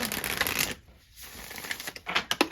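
Playing cards are poker-shuffled in quick bursts of crisp fluttering clicks, close up, with a brief pause midway.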